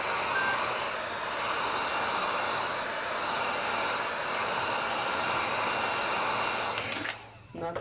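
Heat gun or hair-dryer-style heating tool blowing steadily on a cracked iPad 9th generation screen during a repair, a continuous broadband whoosh lasting several seconds before cutting off abruptly near the end.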